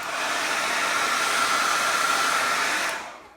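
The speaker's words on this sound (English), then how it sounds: "put a little heat from a hair dryer heat gun" A steady, loud hair dryer heat gun blows with a constant whooshing roar and a faint whine, softening camouflage wrap material on a tumbler, then cuts off abruptly near the end.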